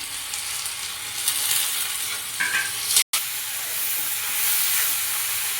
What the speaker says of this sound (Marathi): आता मी टोमॅटो टाकले आणि टोमॅटो मस्त 2-3 मिनिटं तेलामध्ये अशी छान परतून घेईल कांद्याबरोबर